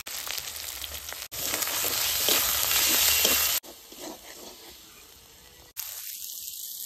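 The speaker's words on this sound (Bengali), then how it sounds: "মশলা ভালো করে কষিয়ে নিয়েছি" Spices with dried chilli paste, salt and turmeric fry in a pan, producing a close sizzling hiss that swells louder in the middle, drops to a quieter crackle, then returns after brief cuts, with no voices.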